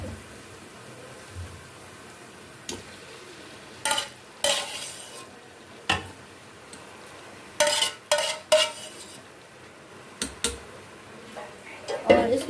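Fried okra being stirred into masala in a pot, with a low background sizzle broken by sharp, irregular scrapes and clanks of a spoon against the metal, several in quick bursts.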